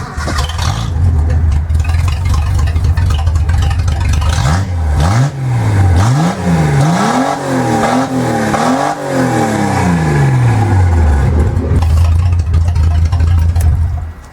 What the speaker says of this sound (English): we gotta see what it sounds like without an exhaust system